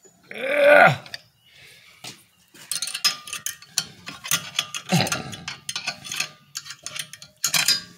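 Hand tool working on the rear brake of a 2014 Volvo XC60 during a brake pad change, giving close metallic clicks and scraping bursts with short pauses between them.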